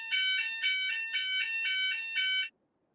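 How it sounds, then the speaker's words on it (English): A fire alarm sounds indoors in a rapid repeating electronic beeping pattern of about five pulses, loud and near, cutting off abruptly after two and a half seconds with no talk over it. "Apologies for the fire alarm."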